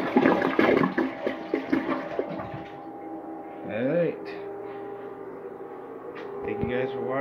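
A clogged toilet flushes with a rush of water, then gurgles and bubbles as it struggles to drain, close by in a small room, with a faint hum underneath.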